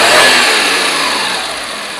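A 15-year-old Maruti 800 car engine runs steadily and loudly after timing and tuning work, a dense broadband hum that eases slightly in level, with no talk.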